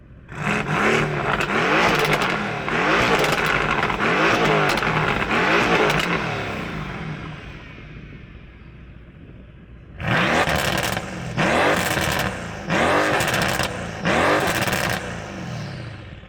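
Two tuned sports car engines, an 800 hp Stage 3 Mercedes-AMG C63 and a 750 hp Stage 2 AMG GT R, rev hard in turn, each a series of loud throttle blips with a rumbling idle between, close by and without talk.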